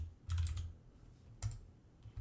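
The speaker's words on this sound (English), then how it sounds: "And let's use the arrow keys to kind of line it up." Arrow keys on a computer keyboard are tapped while shapes are lined up in Google Drawings: a quick cluster of soft clicks, then a single press, and another faint tap at the end, all close and quiet.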